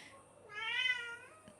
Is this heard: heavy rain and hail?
no